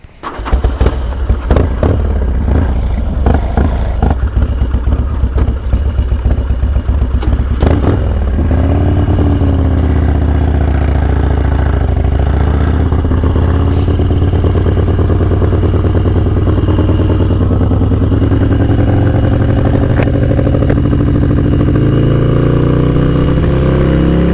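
A Harley-Davidson FXDX motorcycle ridden on a winter day, clattering and revving at first, then settling into a loud steady engine drone with wind rush, with no talk.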